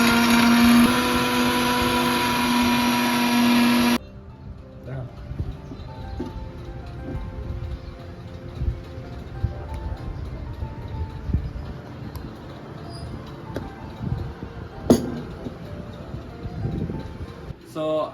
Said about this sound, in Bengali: এখন মিক্সিটা অন করে দিব।